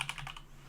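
Quick, light keystrokes on a computer keyboard, typing a short burst of about five taps close up and quiet, over a low steady hum.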